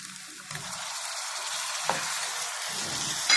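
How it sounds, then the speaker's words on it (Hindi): Chopped tomatoes drop into a pan of goat head meat frying in oil, giving a steady loud sizzle with a few soft stirring clicks and a sharper hiss near the end. "जी, अब टमाटर शामिल करते हैं।"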